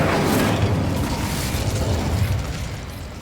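Incendio fire spell cast in Hogwarts Legacy: a loud, sustained whooshing burst of flame that starts at full strength and slowly tapers over a few seconds, with no talk.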